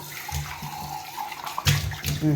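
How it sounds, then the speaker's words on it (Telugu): A sink tap runs water in a short burst, a soft splashing stream with a few louder gushes toward the end, close by and without speech. "సరిపోతుంది కట్టండి నీళ్ళు వేస్ట్ చేయకండి కట్టండి"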